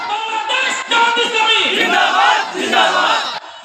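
A crowd at a Bangladesh Jamaat-e-Islami workers' rally loudly chants Allahu Akbar in unison, answering a takbir call with several swelling, sustained shouts.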